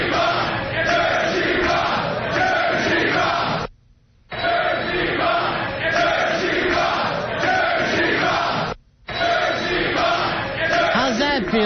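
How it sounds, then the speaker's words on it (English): A boxing fight crowd shouts and roars in loud, sustained waves that cut out for two short pauses before surging again, a massed, chant-like din of many voices. "we were able to hear this from the crowd"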